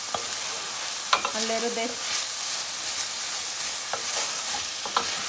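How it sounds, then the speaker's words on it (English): Carrots fry with onion in a pan, giving a steady sizzle with a few stirring scrapes and clinks, while a voice speaks briefly over it. "I'm gonna go in with the carrots because that's the hardest thing here right now. And we're gonna cook it"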